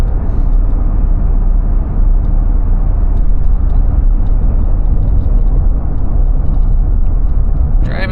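An old work truck cruising at 60 mph, heard from inside the cab as a loud, constant low engine and road rumble that stays steady throughout, with no talking.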